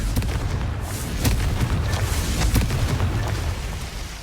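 Repeated Confringo blast spells in Hogwarts Legacy crack and boom in quick succession amid a busy duel, with several sharp bursts riding over constant low rumbling game sound.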